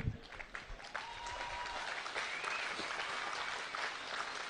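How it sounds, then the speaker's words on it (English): An audience claps steadily at a speech on constitutional rights, with sustained, fairly even applause that swells slightly and continues without talk over it. "Good, you can clap."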